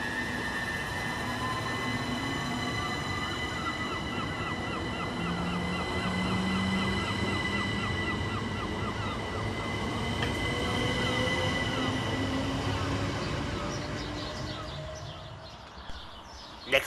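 Southern Class 377 electric unit 377456 on the Southampton Central to Brighton service runs through Angmering station, a steady electric hum and rolling wheel noise with squealing wheels, fading near the end before a brief sharp knock.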